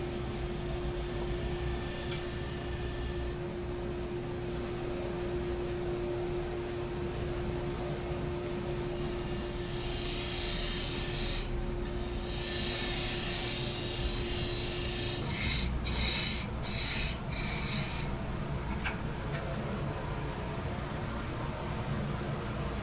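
A wood lathe cuts a recess into a wooden vessel for 2.5-inch rings, giving a steady loud whirring, scraping hiss under a constant motor hum, with brief bursts of harsher tool contact later on.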